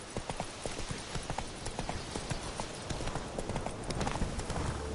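Roach the horse trots in The Witcher 3, its hoofbeats forming a dense, steady clip-clop close by for the whole stretch, with faint background sound and no talk.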